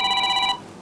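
A telephone rings in a studio, one short burst of bright, pulsing electronic trills that cuts off abruptly, with no talk over it.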